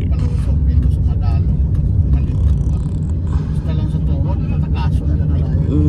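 Riding inside a car through rain on the road to Caticlan Port in Aklan, a steady low road rumble and engine drone with people talking in the cabin.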